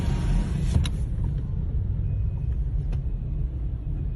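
A Governor House car sits idling on a road, a steady low engine rumble running throughout at a constant level, with a brief faint click or squeak near the start and no voices.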